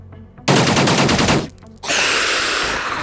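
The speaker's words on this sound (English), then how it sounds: "Captain K is going to provide some suppressive fire, I think." Bursts of automatic gunfire laying down suppressive fire in the tactical strategy game Xenonauts, loud and close: a dense volley, a brief lull with a few scattered shots, then a second sustained barrage.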